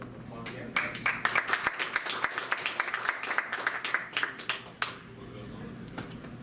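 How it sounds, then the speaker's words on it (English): A small audience at a laboratory showcase session claps for the presenters, with a short burst of brisk, fairly close handclaps that starts suddenly, holds for a few seconds and then tapers off. "we'll just give them all around applause again"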